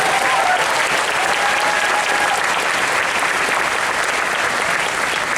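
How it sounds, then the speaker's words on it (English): A large audience at a Disney's Hollywood Studios anniversary ceremony gives a round of applause, a dense, even roar of clapping that runs loud and unbroken throughout. "Let's give them another round of applause."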